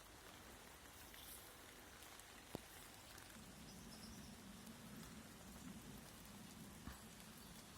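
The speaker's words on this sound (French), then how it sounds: "Ça fait quand même du bien cette pluie." Steady summer rain falls around someone standing outdoors in nature, a soft continuous patter of drops on surfaces, with one or two sharper nearby drips standing out.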